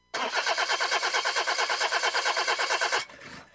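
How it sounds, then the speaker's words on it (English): A car engine cranks over and over in a fast, even rhythmic whir for about three seconds without catching, then cuts off abruptly, loud and close with nothing else heard. "Car won't start?"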